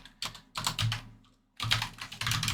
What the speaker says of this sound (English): You simply type in your username